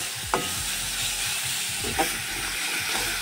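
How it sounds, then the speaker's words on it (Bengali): Ginger and onion frying in oil with turmeric and chili powder, a steady broad sizzle with a couple of sharper spatula scrapes, close up and uninterrupted by speech. "একটু আদা আর পেঁয়াজ ভেজে নিচ্ছি, সাথে হলুদ গুঁড়ো আর লঙ্কা গুঁড়ো দিয়ে একটু ভেজে নেওয়া হচ্ছে"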